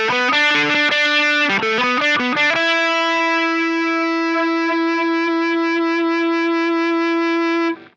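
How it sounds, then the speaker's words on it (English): Heavily distorted electric guitar through a Boss DS-2 Turbo Distortion and a Line 6 Helix Feedbacker plays a quick riff, then one note rings on and swells into sustained howling feedback with bright overtones until cutting off. "This kind of a Boss DS-2 Turbo Distortion along with the feedbacker."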